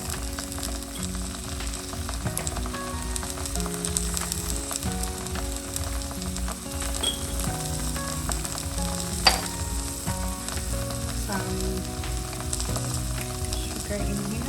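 Prohok khtiss base, a Khmer fermented fish paste mixture, fries in a pan with a steady close sizzle that has occasional stirring scrapes and one sharp clink partway through.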